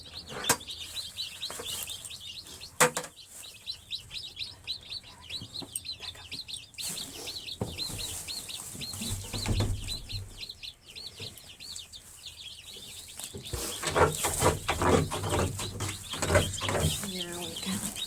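Young chicks at their coop clucking and chirping in a dense, busy chorus of high peeps, with a person talking over them and brief bumps and rustles as the birds are herded inside.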